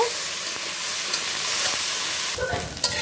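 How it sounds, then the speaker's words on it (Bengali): Potatoes and cauliflower fry in a pan with a steady close sizzle and hiss, broken by a few scraping stirs toward the end. "দেখো দিয়ে দিলাম আলু আর ফুলকপি। আলু ফুলকপিগুলো একটু ভেজে নিব।"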